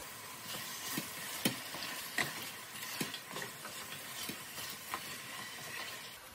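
Lentils being stirred in a hot pan on a high flame for dal, a steady sizzle with repeated clinks and scrapes of the spoon, close and fairly quiet, with no talking.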